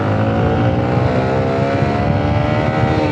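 Citybest PS CB115PS underbone motorcycle accelerating, a loud, dense, continuous engine buzz and exhaust roar heard close up without any speech.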